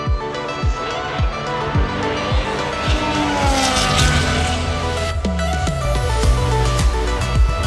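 Formula One cars scream past during qualifying at a racetrack, a loud high engine wail with repeated quick downshifting sweeps as each car passes, layered over constant crowd and track noise.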